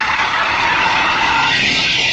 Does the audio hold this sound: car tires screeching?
yes